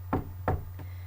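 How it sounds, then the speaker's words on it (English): Three knocks on a door, two firm raps followed by a softer third, close and clear over a faint steady hum. "One by one, they knocked on the door."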